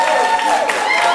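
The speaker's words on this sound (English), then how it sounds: "Please, a round of applause for Setor." A studio audience applauds a contestant at a Ghanaian pageant, with continuous clapping and crowd noise at close range and a voice talking over it.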